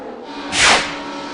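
NASCAR stock cars race for the lead at Talladega, one car whooshing past close by in a single loud swelling rush over a steady engine drone.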